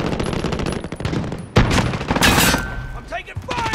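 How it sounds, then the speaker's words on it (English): Gunfire in a shooter video game: rapid automatic bursts and sharp single shots with heavy impacts, dense and loud, with a voice shouting among the shots. "I'm taking fire!"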